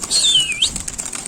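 A quick burst of wings flapping as a pigeon takes off close by from a metal sheet pigeon loft, followed by fainter fluttering.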